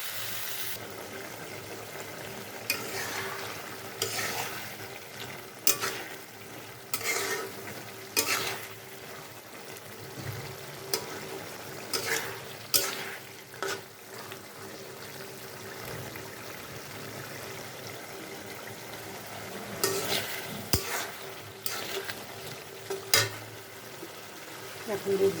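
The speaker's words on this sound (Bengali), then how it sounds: "তাই আমি শুধু ফুলকপি আর আলুটাই কষে নেব।" Cauliflower and potato pieces being sautéed in a pan for a thin fish curry with catla, with a spoon scraping and stirring in repeated bursts over a soft continuous sizzle, close and moderately loud.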